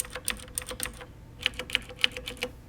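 Mechanical keyboard with Cherry MX Black switches typed on up close, giving a run of sharp, uneven clacks, some keys louder and brighter than others, with no voice.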